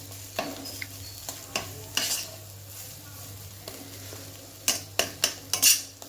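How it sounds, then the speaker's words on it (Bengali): Sugar being mixed into a mashed vegetable-peel bhorta of pointed gourd and ridge gourd skins, scattered spoon scrapes and clinks against a bowl, with a cluster of sharper knocks toward the end. "দেখো চিনিটা কিন্তু আমি ভালোভাবে মিশিয়ে নিলাম"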